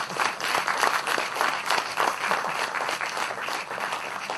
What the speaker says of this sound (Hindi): ताली तो